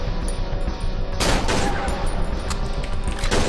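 Rapid gunfire rings out in the horror game Cry of Fear, with a dense burst of shots and sharp reports across the clip, loud and close over a constant game background hum.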